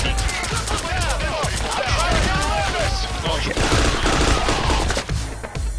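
Dense, continuous automatic gunfire in a video game, volleys of rapid shots aimed at a bulldozer, loud and close, with players talking excitedly over the shooting.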